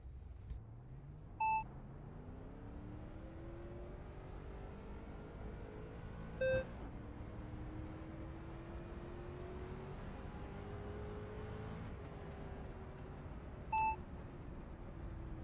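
Street stock race cars idle and drone steadily at Charlotte in iRacing, a low, continuous engine hum that slowly rises in pitch, punctuated by three short electronic beeps.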